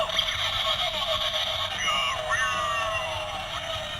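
Electronic scream effect from a Sentai toy: a loud, sustained, wavering shriek with sweeping pitch, played through a small speaker over about four seconds.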